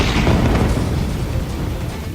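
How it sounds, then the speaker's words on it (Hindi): An explosion brings down part of a tower building in Gaza, heard as a loud, deep rumbling roar that stays heavy and then slowly eases off, with no talking. "पहले धमाके में बिल्डिंग का बायां हिस्सा टूटकर नीचे गिरता दिखा"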